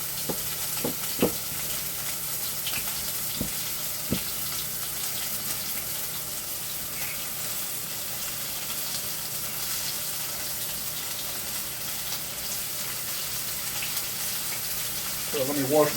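Small pieces of chicken and sausage fry on an electric stove with a steady close hiss and sizzle throughout, a few sharp clicks near the start and a brief rise in noise at the very end.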